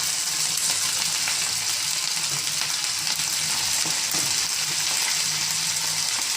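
Small battered cauliflower pieces for gobi manchurian fry in hot oil with a dense, steady sizzle and bubbling hiss, close and continuous, with light stirring clinks now and then.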